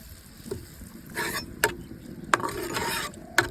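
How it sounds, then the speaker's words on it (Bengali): A spoon stirs onion, garlic and ginger paste in a pan, giving soft scraping sounds and a few sharp clicks against the metal, close and fairly quiet. "এবার ভালোভাবে নাড়তে থাকবো।"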